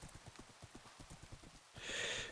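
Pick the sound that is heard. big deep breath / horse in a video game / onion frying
horse in a video game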